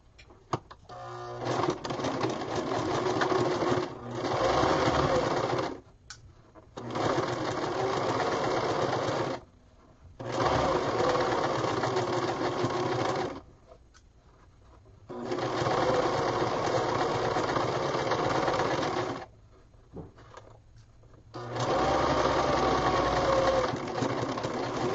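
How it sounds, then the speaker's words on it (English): A sewing machine stitches down the middle of a 1/4 inch double fold hem in several long steady runs, each lasting a few seconds and separated by short pauses, close and fairly loud with no talking. "I'm going to sew down the middle of the fold."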